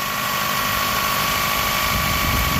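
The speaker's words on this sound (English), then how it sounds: "after you tighten it, make sure to run the engine like this" A 2001 Toyota Camry engine idles after its power steering belt has been tightened, giving a steady, even hum with a constant whine and no talking.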